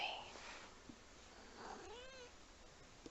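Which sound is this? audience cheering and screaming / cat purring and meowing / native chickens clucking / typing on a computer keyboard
cat purring and meowing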